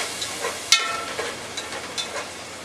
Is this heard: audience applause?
no